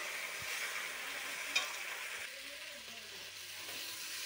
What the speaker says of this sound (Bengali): দেখো কষাচ্ছি, কষানো হয়ে গেলে জল দিয়ে দেবো